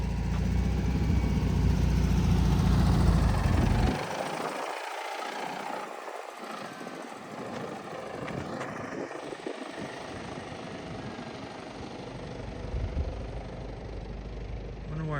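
A 1959 Volkswagen Beetle engine runs loudly with a rough, uneven mechanical churn, dropping slightly in level after a few seconds and carrying on steadily, with voices talking over it in places.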